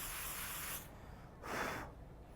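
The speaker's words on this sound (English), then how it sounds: "So spray your club face." Athlete's foot powder spray aimed at the face of a golf club, a short aerosol hiss burst of about half a second, close and moderately loud against a steady background, with no one talking.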